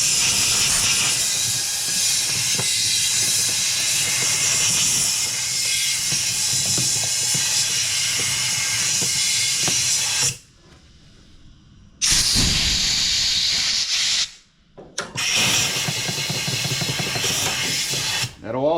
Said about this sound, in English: you can use some carburetor cleaner down in there